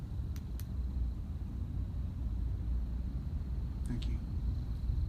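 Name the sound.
thunder rumbling on a stormy night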